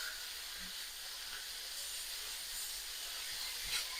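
Capsicum sizzles in a hot pan for a Szechuan-style pork and pepper stir-fry, a steady soft hiss running evenly throughout with no talk over it.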